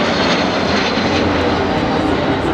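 A Boeing jet airliner engine roars loudly and continuously, a dense steady rush of broadband noise with no pauses.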